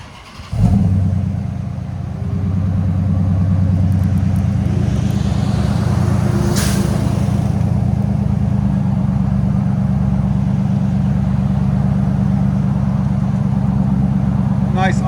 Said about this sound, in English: 2014 Charger RT with Flow FX mids, DYNOMAX rears,